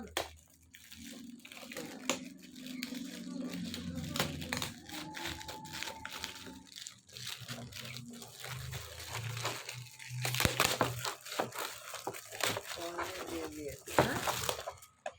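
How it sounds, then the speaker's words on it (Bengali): A gift bag pulled open, producing bursts of crinkling and rustling plastic or paper, loudest near the middle and end, while people talk throughout. "ব্যাগটা খুলি। খোলো না, টানো, টানলে খুলবে।"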